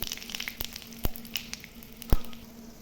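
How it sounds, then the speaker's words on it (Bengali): Whole cumin, bay leaf and dried chilli crackling in hot oil for a tempering, with a soft steady sizzle broken by a few sharp pops and one louder snap near the end. "গরম হয়ে গেছে, জিরা তেজপাতা শুকনো লঙ্কা দিয়ে দিলাম।"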